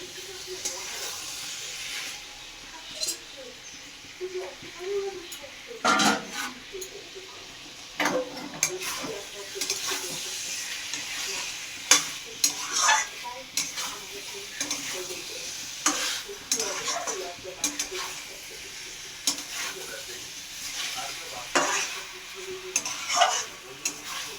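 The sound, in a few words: stir-frying potato, pointed gourd and beans in spices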